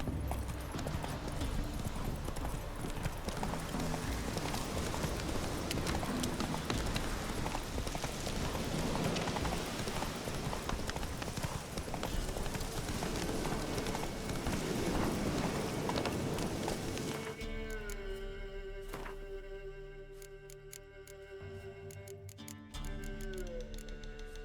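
Roach, a horse in a video game, gallops with dense, continuous hoofbeats under a loud wash of game sound. Partway through, it gives way to quieter tonal game music.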